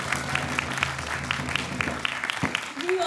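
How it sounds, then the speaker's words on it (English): An audience at a community honoring event in New York City claps warmly, a dense, steady round of applause with quick individual claps standing out, fading near the end as a voice begins. "Round of applause for that"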